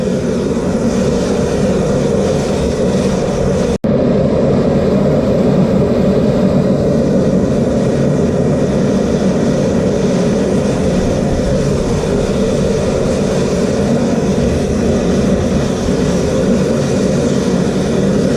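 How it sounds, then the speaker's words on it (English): A loud, continuous roaring rush from gas forge burners in a workshop, like a jet, steady throughout with a brief dropout near the start. "This thing's like a jet engine."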